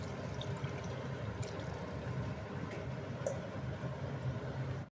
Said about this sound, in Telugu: వాటర్ కూడా పోసేస్తున్నా.